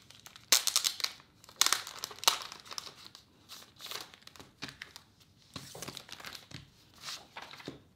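An accordion-folded paper journal insert being unfolded by hand, giving repeated soft crinkling and rustling bursts over several seconds, close and quiet.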